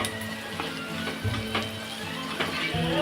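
Chopped green chillies sautéing with fried onion in a pan for a Maharashtrian radish bhaji: a soft, steady sizzle with light stirring scrapes and small taps.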